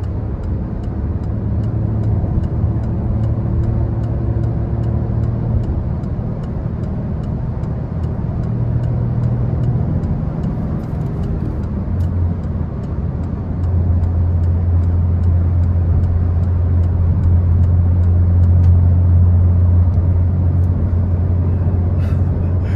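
A 2024 Peugeot 208 Style 1.0 cruises at about 120 km/h on a highway, giving a steady, loud interior road rumble and engine drone throughout with shifting low tones and no talk.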